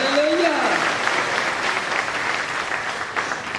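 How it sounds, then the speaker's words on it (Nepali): Church congregation at a Delhi prayer house applauding loudly, a dense burst of clapping filling the hall, with a voice speaking over the start. "परमेश्वरलाई एकपल्ट जोरदार ताली बजाएर"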